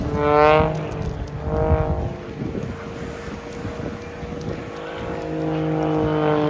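Jet aircraft fly past at an air show in Bray, Ireland, giving a roaring, swelling whoosh with rising and falling tones. A couple of louder passes come early, then a sustained rumble builds toward the end.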